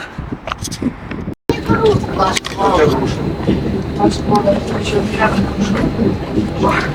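A train rumbles along the rails near Sochi-Adler, Russia, with steady rolling clatter and a brief sharp cutout, loud and close, with a voice faintly mixed in.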